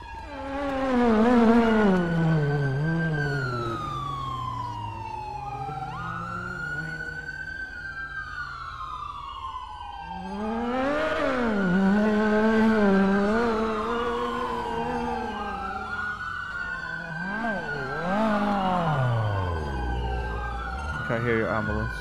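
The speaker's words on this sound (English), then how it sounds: "hear your ambulance." An ambulance siren wails loud and close, its pitch sweeping up and down in long repeating cycles that rise and fall for the whole stretch, with no talk over it.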